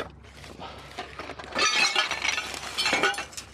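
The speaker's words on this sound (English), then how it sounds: "I don't think this crock pot is doing very well by the sounds of it" A broken crock pot from an Amazon return rattles with loose shards of ceramic or glass clinking and crunching inside, close, in a few shaken bursts.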